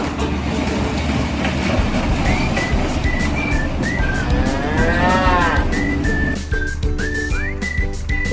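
A cow moos loudly and at length over a busy farm background, while high whistle-like tones slide and chirp alongside it.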